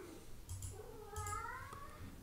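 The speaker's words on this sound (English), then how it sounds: "it's my cat in the background" A domestic cat meows several times in a quiet indoor room, soft and somewhat distant, drawn-out wavering calls with short gaps between them and no talk over them.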